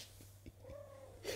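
A house cat gives one short, close meow with a rising then falling pitch amid soft household background noise, followed by a brief rustle.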